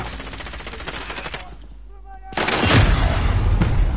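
Rapid bursts of video game gunfire rattle loudly in a dense automatic volley, break off into a short quieter gap with faint tones, then return even louder as heavy shooting.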